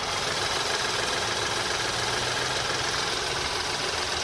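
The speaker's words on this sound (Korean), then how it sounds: "지금 바로 엔진 소리 한번 자세하게 들려드릴게요." A BMW 5 Series four-wheel-drive sedan engine idles with the hood open, a smooth, steady hum and faint mechanical whir, constant and close with no change in pace.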